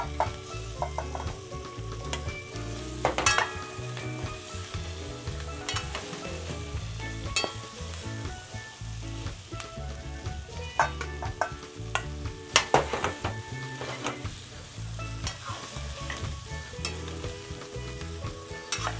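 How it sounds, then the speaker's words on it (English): Ground provisions frying in a pot in Paramin, Trinidad and Tobago give off a loud, continuous close sizzle with repeated stirring scrapes and clinks throughout, and no voices. "now I'll put my provision in the pot"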